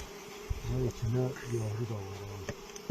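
Honey bees buzz densely around a hive in a hollow tree trunk being calmed with smoke, a steady close insect drone with a voice talking intermittently over it.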